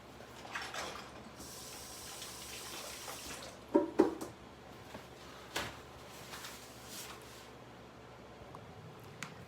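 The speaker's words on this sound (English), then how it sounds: "Let me wash my hands." Water runs from a tap into a sink while hands are washed in a kitchen, a steady faint hiss with a few sharp clatters and knocks partway through.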